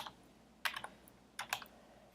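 Typing on a computer keyboard in an office: two short bursts of quick, crisp key clicks close by against a quiet background, with no talking.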